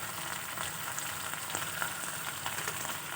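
Spiced masala with chopped green chilli, chilli powder and salt sautéing in a pan for a potol, potato and paneer curry, a soft continuous sizzle with faint stirring ticks, fairly quiet and without talk.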